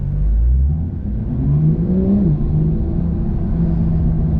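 A Porsche 992 Turbo S cruising at a sustained pace, heard from inside as a loud, steady low engine drone and road rumble with slight pitch shifts as speed varies.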